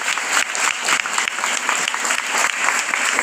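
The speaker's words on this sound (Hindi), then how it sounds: "ताली बजाएंगे।" A church congregation applauds during a Hindi sermon, steady dense clapping from many hands throughout, fairly loud and close with no talk over it.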